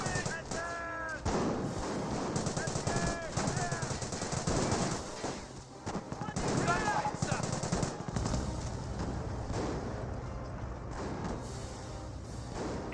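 Gunfire rattles through a Company of Heroes multiplayer battle, with machine-gun bursts and scattered shots sounding almost continuously across the clip and someone commentating over the top.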